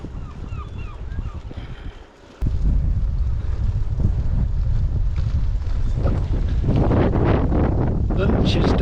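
A strong headwind on a bike ride through England buffets the microphone with a continuous roaring rush that gusts louder after a brief lull, with a voice speaking faintly beneath.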